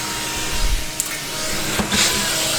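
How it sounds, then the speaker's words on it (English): A vacuum cleaner runs steadily while cleaning the interior of a Miata during a restoration, a continuous close whooshing drone with brief bumps and clatters as the nozzle moves around. "What are you vacuuming, guy?"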